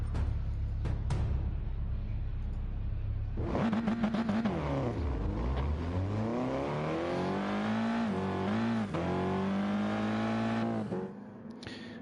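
Race car engines from the racing game GT Sport, a loud engine note rising and falling through repeated revs and gear shifts as a car accelerates down the track, with no talk.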